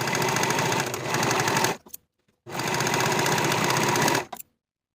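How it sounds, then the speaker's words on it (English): A sewing machine finishes the side edges of a sleeve for a fitted pullover top, running in two loud, steady, rapid stitching bursts of about two seconds each, separated by a short silent pause. "Finish both side edges of the sleeve separately."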